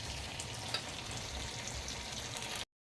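Food frying in a home kitchen pan while cooking palabok, a dense, even hiss of oil crackling up close for a few seconds before cutting off abruptly.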